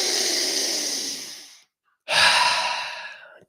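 Two deep, slow breaths during a guided breathwork exercise, each a long airy hiss that fades away, with a short silent pause between them; close and alone.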